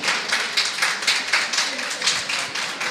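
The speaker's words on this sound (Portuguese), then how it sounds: "Palmas novamente para o Vinícius" A seated audience gives steady applause for the speaker Vinícius at the close of his afternoon talk, with dense overlapping claps in soft rhythmic swells and no voices on top.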